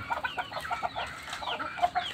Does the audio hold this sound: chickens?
yes